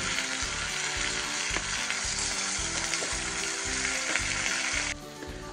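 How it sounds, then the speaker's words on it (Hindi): Loud, continuous sizzling of mutton frying in a hot pan for Kashmiri rogan josh, with rhythmic scraping and stirring sounds running throughout. "अब हम मटन को भूनने के लिए छोड़ देंगे 5-10 मिनट के लिए"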